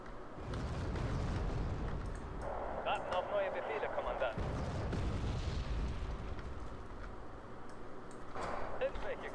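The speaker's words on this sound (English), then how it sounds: "And those mortars are starting to annoy me." Mortar fire in the video game Wargame Red Dragon, with dull rumbling booms and bursts rolling continuously through the clip, partly mixed with a voice talking.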